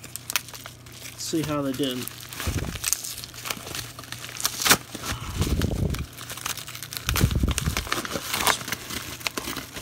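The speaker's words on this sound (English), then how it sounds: "I'm going to rip the tape off of this because this is chock full" Tape being torn and crinkled off a mailed package of trading cards, with irregular close crackling and ripping bursts, while someone talks over it.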